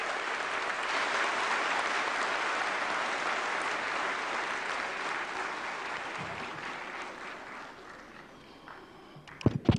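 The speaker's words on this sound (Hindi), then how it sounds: "उपराष्ट्रपति महोदय का जोरदार तालियों के साथ स्वागत करें।" A large audience at a national crafts awards ceremony gives the Vice President a sustained round of loud applause that gradually thins toward the end, with a few sharp knocks and thumps close by.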